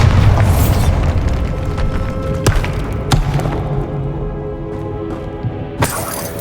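A Bombarda blasting spell goes off in the Hogwarts Legacy video game, giving a loud, booming burst with shattering debris and a rumbling tail, followed by a few sharper cracks and impacts.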